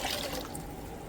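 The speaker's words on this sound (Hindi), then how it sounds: "3 कप पानी डालेंगे इसके अंदर।" Three cups of water pour into a pot of washed, overnight-soaked lentils and barley for beef khichra, a steady close splashing gush with no talk.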